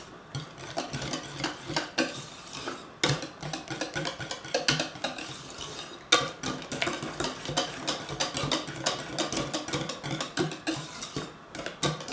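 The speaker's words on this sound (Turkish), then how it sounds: "Şimdi güzelce karıştırıyorum." Milk pudding being stirred in a pot after orange peel is added, giving steady scraping and clinking of a utensil against the pot in a continuous close rhythm, with no talk.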